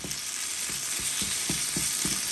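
Garlic paste fries in hot oil with a loud, continuous sizzle, punctuated by evenly spaced scraping thumps from stirring in the pan.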